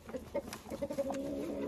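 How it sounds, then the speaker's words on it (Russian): Hens peck at potatoes, giving a few short, soft clucks that settle into a low, drawn-out murmuring call, close and fairly quiet. "Поэтому сегодня мои курочки едят картошку."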